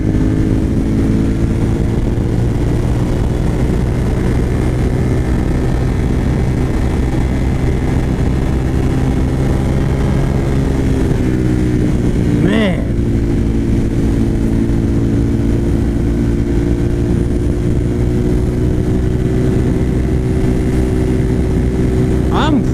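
A high-mileage Suzuki TL1000R motorcycle engine drones steadily while riding, a loud continuous hum with wind rush and one brief rising rev partway through.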